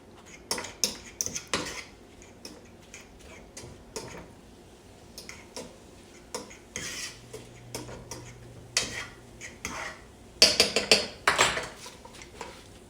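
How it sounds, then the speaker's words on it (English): Onions and cut mushrooms for keto chili are stirred in a pot, giving irregular clinks and knocks of a utensil against the metal, in bursts with short pauses and no talking. "So now I'm putting the onions and the cut up mushroom in there. Mix that in there real good."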